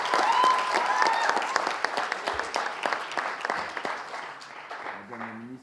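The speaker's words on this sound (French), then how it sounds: "Madame la deuxième ministre, sous vos applaudissements." Audience applause at a high-school eloquence and debate competition, a dense burst of clapping that thins and fades over several seconds before a voice starts speaking at the end.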